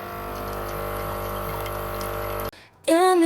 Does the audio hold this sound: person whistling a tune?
no